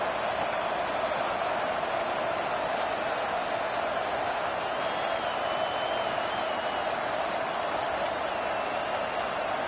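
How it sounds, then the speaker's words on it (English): Steady roar of a college football stadium crowd at a Michigan–Penn State game, swelling as the defense faces third down, a dense continuous wash of cheering with faint whistles and shouts. "Decibels rising as the crowd gets behind this defense on 3rd down."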